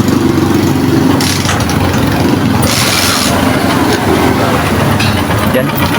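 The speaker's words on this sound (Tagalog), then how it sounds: "ito yung andar ng ating makina" A Bajaj Rouser 135 motorcycle engine runs steadily after a kick start, with a loud, continuous mechanical rattle and ticking from the engine despite a manual tensioner, recorded up close while someone speaks over it.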